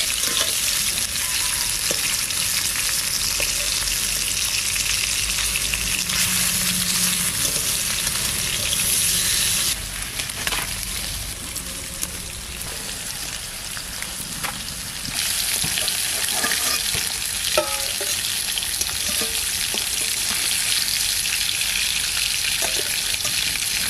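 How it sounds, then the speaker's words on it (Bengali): Hilsa fish lightly frying in hot oil, turned over on both sides: a continuous loud sizzle and crackle with occasional stirring and shifting sounds, briefly quieter midway before resuming, no talking. "হালকা একটু শুধু এপিট ওপিট করে একটু ভেজে নেব।"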